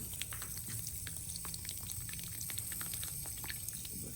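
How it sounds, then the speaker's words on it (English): Water drizzles from close range over the crown of a potted pineapple plant, a quiet, continuous trickle with scattered small drips and splashes running through the whole stretch. "I want to really try to get the water that drizzle down through the top of the crown here"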